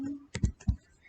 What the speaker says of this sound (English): Just wait, let me type it.